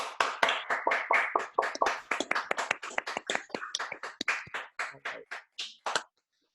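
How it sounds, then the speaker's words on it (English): Scattered hand claps from a small group of online meeting attendees for speakers, uneven and sparse, tapering off after several seconds to silence. "give all of our speakers a big round of applause"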